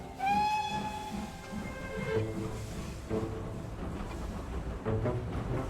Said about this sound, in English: I love these old steam trains.